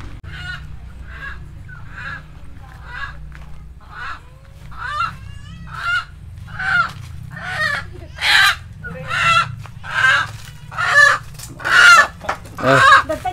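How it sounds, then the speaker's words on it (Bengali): Native chickens cluck in a rapid series of short, close calls that grow louder and more frequent, over a low steady background hum. "মুরগির শব্দ শুনতে পাচ্ছি"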